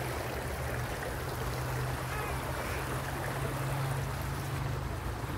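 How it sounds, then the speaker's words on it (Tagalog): Stream water rushes in a dense, steady wash of broadband noise, loud and close, continuing unbroken without any voices. "Mga tubig sa batis."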